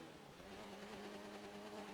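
A Formula 1 race car in an esports video game on a wet Austrian Grand Prix track, its engine note droning steadily with a faint stutter as a gear is missed, heard quietly under the broadcast.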